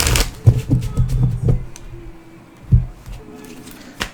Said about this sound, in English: I'm just going to shuffle these